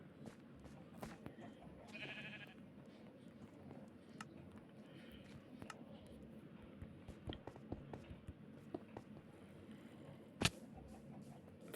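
Sheep bleat faintly in Minecraft while being pushed into an automatic wool farm. Short bleats sit under a steady bed of game ambience and scattered clicks, with one louder sharp tick near the end.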